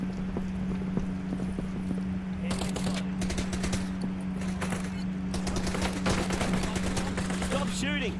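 Video game gunfire comes in short, rapid bursts of sharp cracks, clustered in a few volleys over a steady low electrical hum.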